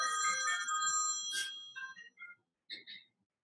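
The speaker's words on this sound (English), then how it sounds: "That's my phone, sorry." A mobile phone ringtone plays loudly with a bright, melodic repeating pattern, then breaks into a few shorter, fainter tones with gaps between them before stopping, heard alone during an indoor talk.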